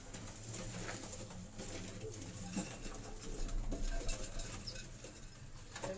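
Pigeons on a rooftop cage give soft, faint cooing and wing patter, a low steady flutter of several birds close by with no clear voices.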